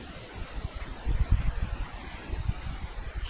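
Chilly summer wind gusts across a mountainside, buffeting the microphone in uneven low rumbles that swell and ease, with a steady airy hiss beneath.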